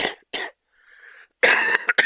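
A person coughs several times in short bursts, with a brief throat-clearing sound between them, close and moderately loud.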